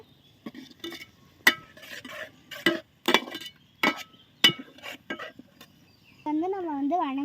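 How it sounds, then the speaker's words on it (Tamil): Spoon scraping and clinking in a pot as ground masala paste is stirred into chicken semi gravy, in uneven loud strokes, followed by a steady hiss near the end. "அந்த நம்ம அரைச்சதையும் போட்டு நல்லா வந்து மிக்ஸ் பண்ணணும்"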